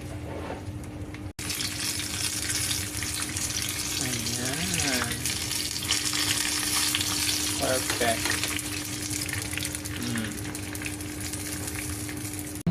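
Lumpia shanghai frying in hot oil in a new home kitchen, a continuous soft sizzle and crackle that carries through the clip, with brief clinks and a single word spoken.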